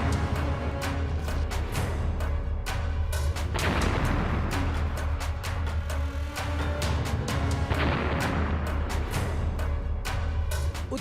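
Russian artillery and missile strikes pounding Kharkiv in north-eastern Ukraine, a dense, continuous barrage of sharp blasts and booms layered over a steady low rumble, with no voices.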